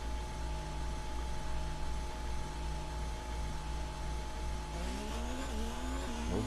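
A Formula 1 car in F1 2019 revs and pulls away onto the track, a loud steady engine drone that rises into climbing gear-change sweeps near the end, with no voices.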